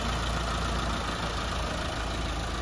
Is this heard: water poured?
no